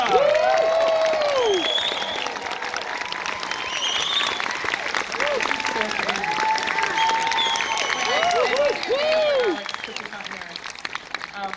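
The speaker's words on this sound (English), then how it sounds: "please put your hands together for the director of The Bone Temple, the brilliant Nia DaCosta!" Sustained audience applause with cheering fills a venue as a film director of a horror sequel takes the stage, steady and loud throughout, with a few shouts and crowd voices rising over the clapping.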